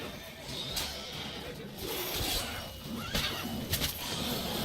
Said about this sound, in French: Le cheval vient de me dégager.